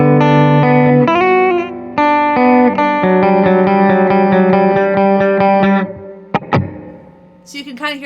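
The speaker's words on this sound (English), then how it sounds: "the first mode is spring. That is that drippy surf sound" Guitar played through a Walrus Audio Mako R1 reverb pedal in spring mode, with strummed chords and then a quick picked run ringing in a short, drippy surf-style splash, followed by a couple of sharp plucks and a brief trailing decay.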